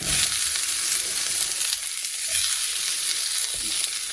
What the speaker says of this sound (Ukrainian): Пательня нагрілася, відправляємо кабачочки